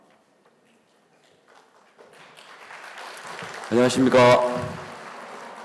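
An audience at an evening session of a church winter retreat camp in Gangneung breaks into applause that swells from near silence to a steady patter, with a voice greeting over the clapping toward the end.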